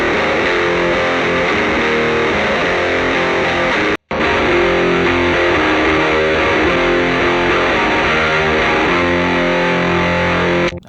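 A heavily distorted electric guitar, heard through an RCA BK5 microphone impulse response, chugs through a riff, loud and saturated, briefly cutting out once before continuing.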